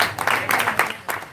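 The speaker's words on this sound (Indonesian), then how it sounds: "Baik, semuanya tepuk tangan buat mereka." Audience applause at a live Indonesian talk-show debate event, a brief burst of scattered clapping rising and falling across the short moment, fairly loud with no talk over it.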